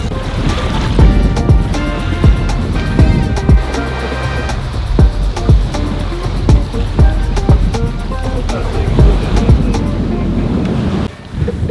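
A family sailing boat cuts through a light beam sea on the Baltic near Stralsund. Waves slap and rush steadily against the hull under constant loud wind buffeting the microphone.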